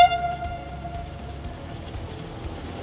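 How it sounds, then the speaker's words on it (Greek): The Kalavryta–Diakopto rack railway train sounds its horn, a single sustained tonal blast fading out over a low rumble of the approaching train in mountainous Achaea. "Έρχεται το τρένο και κορνάρει για να μας προειδοποιήσει."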